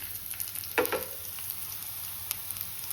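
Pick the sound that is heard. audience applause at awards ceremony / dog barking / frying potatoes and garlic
frying potatoes and garlic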